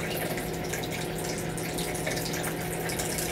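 Water recirculated by a pond pump for cooling homebrew wort flows and splashes in a steady, continuous rush with a faint pump hum underneath.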